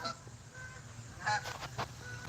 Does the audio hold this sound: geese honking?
yes